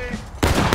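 A musket volley in a video game: after a quiet moment, a sudden dense crackle of many shots fired together erupts and lingers briefly, close and loud.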